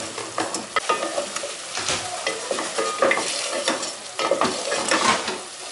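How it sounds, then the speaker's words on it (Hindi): Masala with turmeric fries for palak chicken in a pan, a loud, close sizzle under brisk, continuous spatula stirring and scraping. "इन सब चीज़ों को अच्छी तरह से भून लेंगे।"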